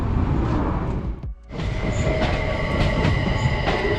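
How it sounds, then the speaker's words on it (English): A train rumbles past loudly and steadily in Switzerland, with a brief dip in the noise partway through and faint high squeals from the wheels. "A little spot of train spotting."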